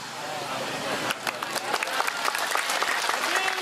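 A congregation at an open-air religious lecture bursts into applause, clapping swelling from scattered claps into a dense, steady wash of many hands, loud and close, with some crowd noise underneath.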